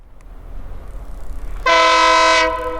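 Train 59 cruises at 10 mph along a Florida short line, a low rumble building before one loud, sustained horn blast cuts in near the end.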